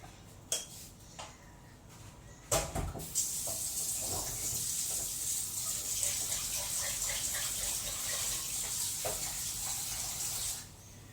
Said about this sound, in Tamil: பயங்கரமாக கொதிக்குது.